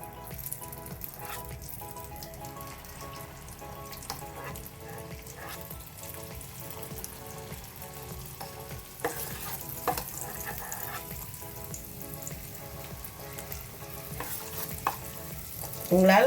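Vellai paniyaram batter, a Chettinad snack, fries in oil in a pan with a steady bubbling sizzle that continues close and unbroken throughout, with a few faint utensil clinks and no talking.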